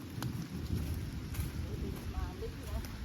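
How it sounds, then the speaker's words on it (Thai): Rain falls steadily outdoors in dim, stormy weather, a soft continuous patter with low rumbling underneath and a few brief faint voices. "ตอนนี้ฝนก็ได้ตกปล่อยๆ แล้วนะครับ"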